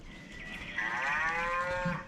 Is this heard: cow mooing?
yes